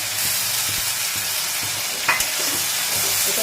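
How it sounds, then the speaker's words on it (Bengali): Mashed pointed gourd with shrimp, green chili, garlic and nigella seeds frying over softened tomato and onion, giving a continuous close sizzle with repeated scraping stirs of a spatula and one brief sharper clatter partway through. "ভালো করে কষাবো"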